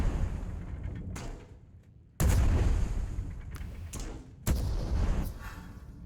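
Gunfire in the video game Worlds Adrift: three heavy booming shots, each a sharp loud crack followed by a long rumbling decay, spaced about a second or two apart.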